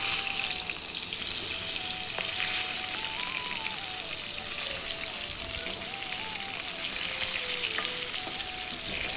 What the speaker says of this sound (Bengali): এবার মাছের মাথাগুলো আর লেজটা ভেজে নিচ্ছি।